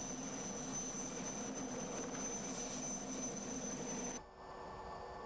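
An RAF aircraft's engine drones steadily inside the cabin on an emergency supply flight to flooded villages in Mozambique, a loud continuous roar with a high whine that abruptly drops in level near the end.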